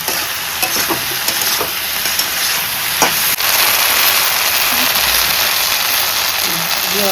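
Fish curry fries in oil in a pan, giving a steady loud sizzle with a few sharp stirring clicks near the start and voices faintly underneath.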